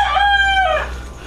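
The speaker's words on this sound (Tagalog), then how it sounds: "Manok lang yun." A rooster crows once, close and loud, its call rising and stretching for nearly a second before trailing off into a steady low background hum.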